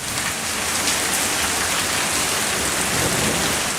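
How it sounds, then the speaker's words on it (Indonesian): Steady, dense rain pours without a break, with a low rumble of thunder beneath it, loud and close throughout. "Saat mereka sedang bermain, air hujan pun menetes di atas kepala mereka."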